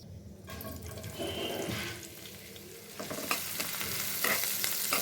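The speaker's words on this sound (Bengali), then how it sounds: "পেঁয়াজটা হালকা ভেজে নেব" Chopped onions fry in oil in a pan, with a steady bright sizzle and occasional stirring scrapes and clinks. Eggplant and potato pieces are being cooked alongside. No one speaks.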